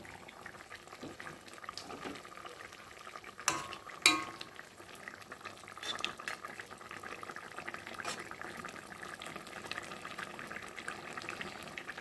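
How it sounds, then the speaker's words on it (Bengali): Fish curry with potatoes bubbles in a pot while a spoon stirs it, with a couple of sharp utensil knocks against the pot early on over a low, steady simmer. "ভালো করে নেড়ে দিলাম"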